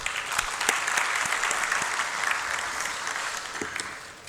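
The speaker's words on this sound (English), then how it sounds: "I think it deserves a huge round of applause" An audience at an International Literacy Day gathering gives steady, moderately loud applause of many hands clapping together, tapering off toward the end.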